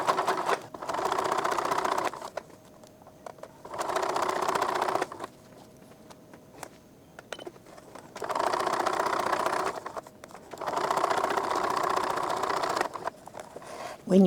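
A domestic sewing machine stitches shirring elastic into taut, stretched fabric, running in four steady bursts of a few seconds each with quiet pauses between rows.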